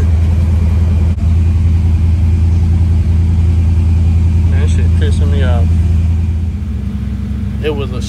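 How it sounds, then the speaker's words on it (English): The engine of a 1989 Chevy Caprice, with the air conditioning switched on, idles loud and close in a steady, even hum, while brief voices come through near the end. "Start your car up. Turn your AC on."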